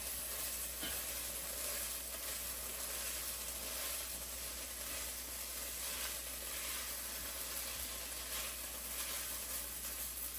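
Garlic sizzles steadily in sunflower oil in a pan, a continuous close frying hiss with faint scraping of stirring throughout.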